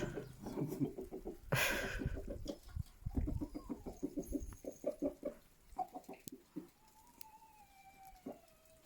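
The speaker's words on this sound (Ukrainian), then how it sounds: "Червона ця курочка як перелиняла, да?" Hens clucking close by in a farmyard on a cold day, a run of short rhythmic clucks with a sharp squawk early on, then scattered calls and a few thin cheeps.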